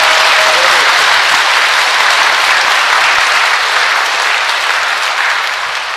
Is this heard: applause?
yes